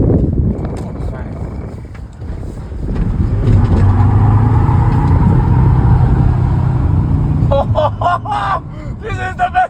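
A rebuilt Volkswagen T4 2.5 van with about 270 bhp accelerating, engine drone rising under heavy wind and cabin rumble, heard from inside with voices breaking in near the end.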